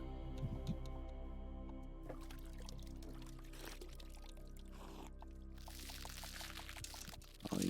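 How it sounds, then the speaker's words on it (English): A bucket of water being poured in a survival video game, a continuous gurgling pour over a steady hum, ending in a brief louder splash. "Bucket of water."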